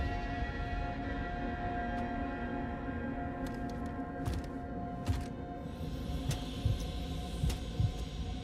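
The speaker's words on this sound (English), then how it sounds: "So you heard the heartbeat in my headphones." A low, steady throbbing heartbeat pulses under a constant droning hum in DOOM: The Dark Ages, with a few faint higher clicks scattered across the middle and end; no one speaks.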